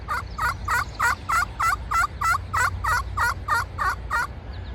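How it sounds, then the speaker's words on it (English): Wild turkey poults calling: a steady series of about a dozen high-pitched kee-kee notes running into yelps, evenly paced and fairly clear over low background rumble. "They make a sound that we call the kiki run, which is high pitched, and then into a yelp."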